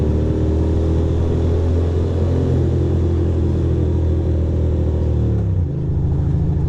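A motorcycle engine rumbles loudly and steadily close by while riding, a deep sustained drone that drops in pitch near the end as the revs ease off.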